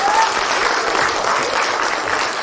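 Audience applause at a carol and pastoral song festival in Opatów, with a full, steady burst of hall clapping that carries on evenly from start to finish.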